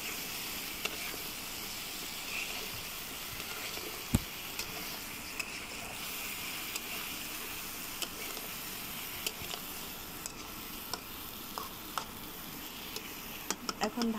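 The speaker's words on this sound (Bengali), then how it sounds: "এখন আমি মশলার সাথে ভালোভাবে মিশিয়ে নেব।" Bottle gourd is stirred with spices in a hot pan for a fish and sweet gourd curry, with a steady sizzle throughout and occasional sharp taps and scrapes from the spoon.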